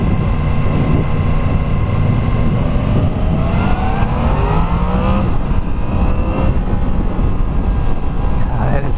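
A 2016 Yamaha FZ-10 motorcycle engine and exhaust on a ride, a loud steady roar rising in pitch through repeated quick upshifts, heard close up with constant wind noise and no talk.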